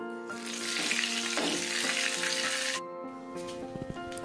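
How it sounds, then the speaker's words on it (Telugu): A rasam tempering of cumin, dried red chilli and asafoetida hits hot oil with a loud, close burst of sizzling that lasts a couple of seconds and then stops abruptly, with soft music underneath. "స్పూన్ జీలకర్ర వేసి చిటపటలాడిన తర్వాత ఇలా ఎండు మిరపకాయని కూడా నేను ఇక్కడ ఒకటి వేస్తున్నానండి."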